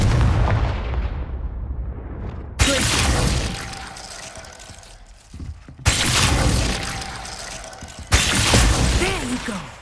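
Spell blasts from the Confringo fire spell in the Hogwarts Legacy video game: three loud, sharp explosive bursts in succession, each followed by a decaying rumble, over game ambience.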